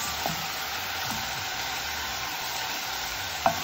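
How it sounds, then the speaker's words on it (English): Sliced onions and coconut frying in a pan for Kerala kadala curry, a steady low sizzle broken by a few faint stir scrapes, one sharper clink near the end. "The onions and the coconut will be nicely browned in about 10 minutes"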